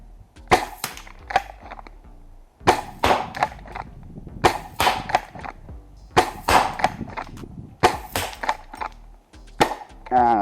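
Repeated sharp shots from an XYL KM9 Unicorn airsoft gun firing at a target, sounding as irregular bursts of snappy cracks spread across the span, each with a brief clattering tail, fairly close and loud with no talking.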